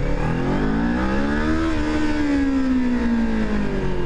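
A 2023 Kawasaki Ninja 400 KRT motorcycle engine revs up in a rising whine, holds near its peak, then slowly drops back, loud and close with no talking.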